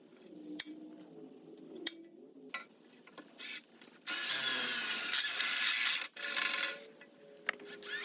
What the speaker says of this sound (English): I'm just drilling through holes here to give some clearance for the end of the screw after it passes through the nut.